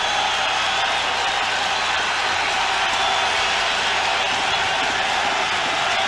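Loud, steady roar of a large stadium crowd at a CFL football game in Winnipeg, a dense wash of cheering noise holding level throughout with no clear breaks.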